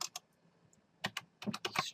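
Bursts of keystrokes on a computer keyboard, close and crisp, with a quiet pause in the middle before a quicker run of several taps.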